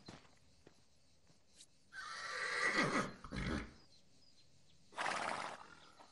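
A horse on a farm gives a loud, drawn-out whinny with a rough, throaty tail, followed after a pause by a shorter snort or neigh, with no talking over it.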